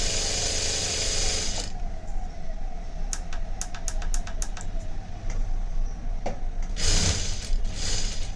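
A sewing machine stitching a blouse runs in a fast, even mechanical whir, with a brief stop and a series of distinct clicks partway through, close and steady throughout.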